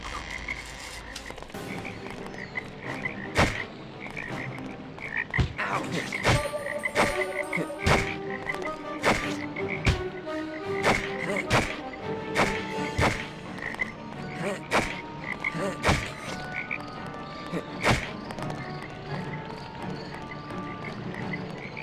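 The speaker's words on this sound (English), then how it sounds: "Look at all those toads." Toads in the A Series of Unfortunate Events video game croak in a dense chorus of repeated clicks and throaty croaks, with sharp knocking pops at irregular intervals throughout and no talk.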